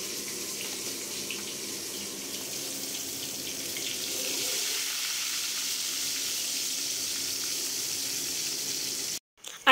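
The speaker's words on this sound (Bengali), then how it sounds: "মাছটা ভাজবো, কাতলা মাছ।" Catla fish frying in a pan in a home kitchen, a steady broadband hiss of hot oil sizzling continuously and evenly throughout, fairly close, ending with a brief cut.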